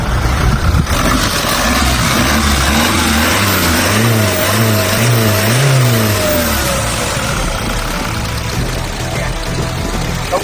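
A Toyota Fortuner or Revo SUV turbo diesel engine with a modified intake idles up close with a steady rumble, rising briefly into a revving swell midway before settling back to a constant drone.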